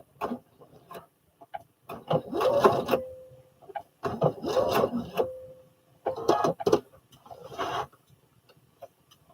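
A home sewing machine stitching fabric for a Butterick pattern, short uneven whirring runs with pauses and faint clicks, close and fairly quiet.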